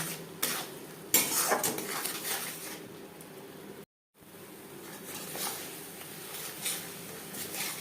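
Fish for katla kalia is stirred in a pan over a low-medium flame, with clinks and scrapes of a utensil against metal and a faint sizzle underneath, broken by a brief silent gap.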